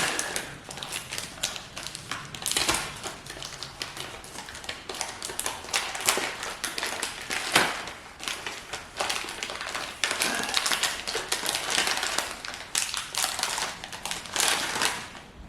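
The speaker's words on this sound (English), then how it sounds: "So these packets aren't very easy to get into. You have to tear a hole in them." A food packet being torn open by hand, with sustained crinkling, rustling and sharp tearing bursts at close range and fairly even loudness, and no voices.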